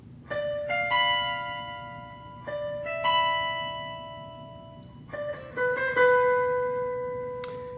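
Guitar lead part of a song, played as a lesson melody high on the third string: a handful of clear, sustained single notes ringing out in a slow phrase, moderately loud and alone with no talk.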